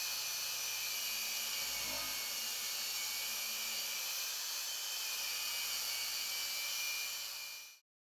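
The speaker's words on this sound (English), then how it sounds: "remove the heat tint color at the weld with the straight grinder" A straight grinder fitted with a round polyamide shaft brush works a weld seam on stainless steel to clear heat tint, giving a steady, loud, high whirring hiss that runs unbroken, then cuts off abruptly near the end.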